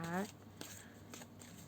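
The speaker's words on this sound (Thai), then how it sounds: "เดี๋ยวขอสับไพ่ก่อน" Tarot cards shuffled by hand in a few quick riffling bursts, soft and close, after a brief vocal sound at the start.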